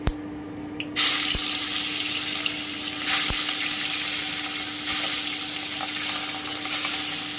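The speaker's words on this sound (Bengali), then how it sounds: "আমি হালকা করে একটু ভেজে নেব" Bata fish sizzle steadily in hot mustard oil in a pan, a loud continuous frying hiss with a few sharp clicks and brief louder bursts, with no talking.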